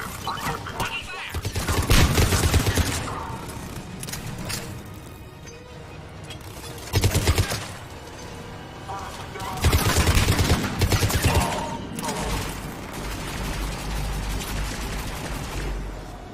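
Video game combat gunfire during an attack: dense rattling bursts of automatic fire and booms over a steady loud rumble, with several surges of heavier firing.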